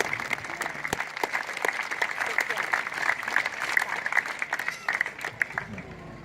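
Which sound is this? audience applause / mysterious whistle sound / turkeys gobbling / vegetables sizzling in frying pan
audience applause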